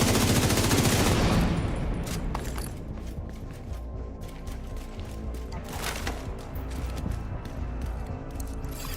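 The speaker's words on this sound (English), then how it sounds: "All I know is if I see bad guys, I shoot bad guys" Gunfire in The Division, the loose-looter shooter set in Brooklyn, opening with a loud dense volley that drops into scattered sharp shots and clatter over a steady background.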